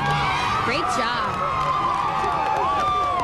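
Spectators at a 1999 NCAA Super Six gymnastics meet applaud and cheer after a routine's landing, a dense steady wash of clapping and whoops from a large arena crowd with voices mixed in.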